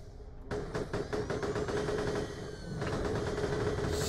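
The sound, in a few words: spin gun firing in video game Borderlands the Pre-Sequel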